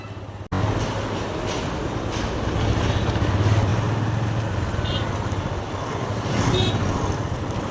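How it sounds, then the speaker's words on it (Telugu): Riding a motorbike on a road after rain, with constant loud wind buffeting and a low engine rumble that continues steadily for the whole stretch, following a brief cut at the start. "ఇప్పుడే అలా బైక్ రైడ్ చేస్తూ వెళ్తున్నాను"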